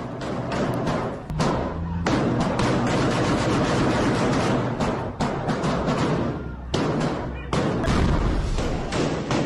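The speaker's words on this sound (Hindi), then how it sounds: "अंधाधुन फायरिंग करती दिखी इजरायली फोर्स" Israeli forces fire at a school in Shujaiya, Gaza, with dense bursts of sharp shots and thuds coming rapidly and loudly, mixed with voices.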